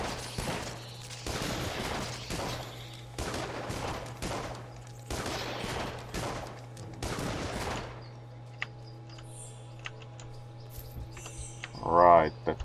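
Bursts of rapid gunfire ring out in the video game Dungeon Siege while spiders are shot at, roughly six loud volleys across several seconds, followed by quieter game ambience with chirping and a steady background hum.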